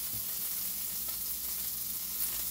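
Onions for mini burger sliders sizzle on a hot griddle, a steady close crackling hiss with no talking.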